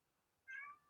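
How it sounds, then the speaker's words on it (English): A cat gives a single short meow indoors, quiet and clear, lasting about half a second with no voices over it. "That's my cat."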